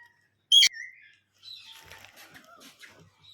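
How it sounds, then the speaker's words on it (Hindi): A myna bird gives a sharp, loud chirping call near the start, followed by quieter fluttering and faint scattered sounds. "मैना"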